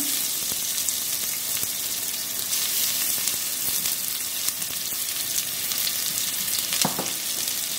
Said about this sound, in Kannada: ಎಣ್ಣೆ ಹಾಕೊಂಡು ಈರುಳ್ಳಿ ಹಾಕೊಳ್ಳೋಣ.